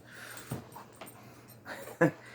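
Several dogs close by make faint whimpers and soft panting breaths, with a few brief sharper yips scattered over a low steady background hum.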